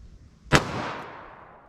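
A single sharp gunshot from a Taurus .38 Special revolver with a 3-inch barrel firing a 158-grain load, loud and close, with a long reverberant decay trailing off afterward.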